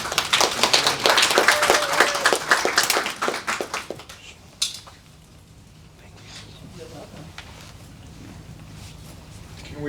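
Audience clapping at a community conversation event, a dense burst of applause for about four seconds that quickly fades, followed by near quiet room tone and a faint voice.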